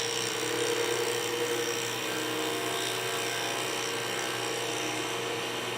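A wood lathe spins at 3,900 RPM, turning a resin and cholla cactus pen blank, giving a steady high-pitched whine with a constant drone underneath, close and unbroken throughout.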